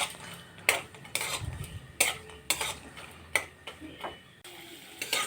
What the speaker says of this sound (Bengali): আমি এবার বাদামটা ভেজে নেব কড়াই তেল দিয়ে দিয়েছি